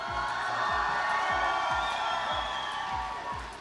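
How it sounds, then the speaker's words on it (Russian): Festival crowd in Tomsk cheering and applauding loudly and continuously, a dense wash of claps and shouts, while a steady pulsing music beat thumps underneath throughout. "Это заслуживает каких аплодисментов от Томска?"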